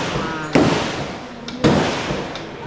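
Gunfire from an M60 machine gun at a shooting range at the Cu Chi Tunnels: two loud, sharp single shots about a second apart, each with a ringing tail, and fainter reports in between over steady background noise.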